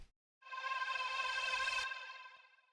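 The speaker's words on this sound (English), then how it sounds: "there's just a little riser right here" A short bright riser effect swells in after a brief gap, a shimmering tonal sweep that holds for over a second then cuts off and fades, heard alone and fairly quiet.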